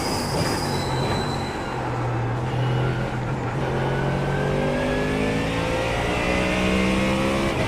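Continuous high-revving GT3 race car engine in a racing video game at Daytona, loud and droning, with rising and falling pitch as gears shift.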